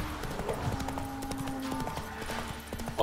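Horse hooves clip-clop steadily and close by in The Witcher 3 as wolves spook the mount, with faint game ambience and music tones running underneath.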